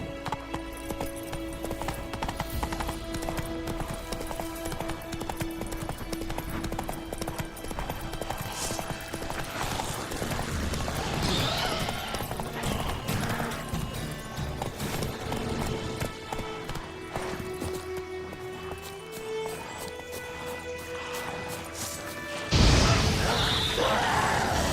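Roach the horse gallops in The Witcher 3, a steady rapid clip-clop of hooves running continuously under game music and ambience, with a louder burst near the end.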